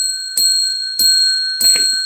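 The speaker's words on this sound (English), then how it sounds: "On 100 thumbs up, we ring the bell 10 times." A bell struck three times at even intervals, each strike bright and close, with a clear ringing tone that hangs on until the next. No voices.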